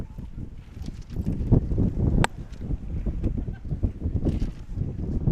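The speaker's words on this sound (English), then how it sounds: "The wind is the hardest it's ever been tonight. Wind gusts over 25 miles an hour currently." Strong wind gusts buffet an outdoor microphone at a nighttime high school football game, producing loud, uneven low rumbling bursts that rise and fall over crowd and field noise, with faint voices in the background.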